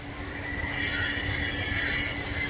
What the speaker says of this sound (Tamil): இது வந்து யுனெஸ்கோ ஹெரிடேஜ் சிம்பிள் நம்ம நீலகிரி ட்ரெயின்